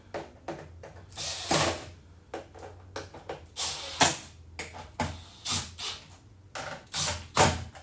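Screws are driven in and tightened in a workshop, heard as a series of quiet, short mechanical bursts with brief pauses between them.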